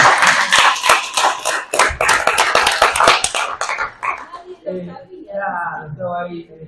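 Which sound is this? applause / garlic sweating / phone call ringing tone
applause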